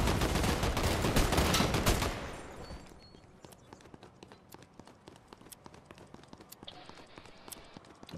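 Sharp gunshots from the video game Fortnite ring out amid a loud burst of action, then sparser clicks and shots continue more faintly.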